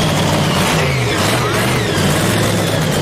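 A hot rod at a drag-style burnout show reverses back over the line after its burnout, its engine loud and close with a rough, throaty rumble that wavers through the clip.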